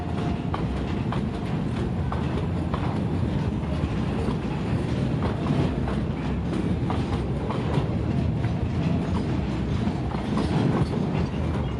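Two freight trains pass at night at a station where a diesel railcar stands at the platform, a loud continuous rumble of long rows of wagons with rhythmic wheel clatter running unbroken throughout.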